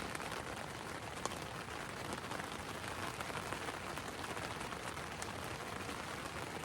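Steady rain patters on surfaces in a mountain pass during a backpacking trip, a dense, even hiss of drops with no pauses, moderately faint and with no voices.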